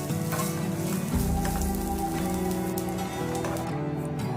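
Chana masala ingredients fry in a pan with a continuous, even sizzle throughout, fairly close, with no talking.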